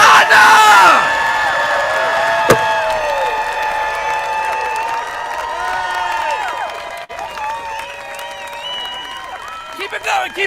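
A large town hall crowd claps, whoops and cheers loudly and continuously, voices yelling over dense applause that rises and falls but never stops.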